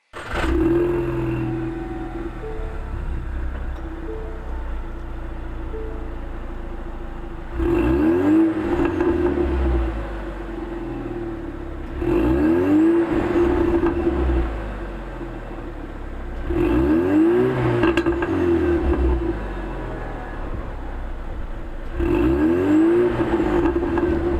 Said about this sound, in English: there's going to be a clip of how it sounds without my resonator